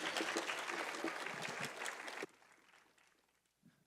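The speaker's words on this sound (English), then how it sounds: "One more round of applause for Patrice Barnes, please." An audience claps at a community event mixer, a dense burst of applause that cuts off abruptly midway, leaving a quiet room and a brief bump at the end.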